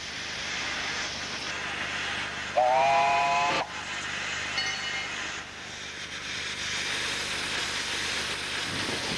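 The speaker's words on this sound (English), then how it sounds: "you can ride with all the glories of steam" A steam train's shrill whistle blows for about a second amid hissing steam and the rumble of a small locomotive on a miniature 15-inch gauge railway at Cleethorpes.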